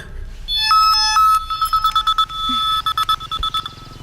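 A mobile phone ringtone rings for an incoming call in a Hindi-dubbed South Indian movie, a bright repeating electronic melody of pulsing tones that plays alone and fairly loud.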